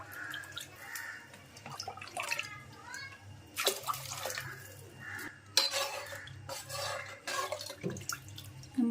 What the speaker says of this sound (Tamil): அதனால் 4 அழகு தண்ணி ஊற்றிடுறேன்